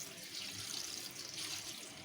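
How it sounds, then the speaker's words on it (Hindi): Plain water runs over boiled macaroni in a colander, making a soft, continuous splashing trickle like a tap filling a sink, faint and steady throughout. "इसके ऊपर हम थोड़ा सा सादा पानी जो है ना वो डाल देंगे।"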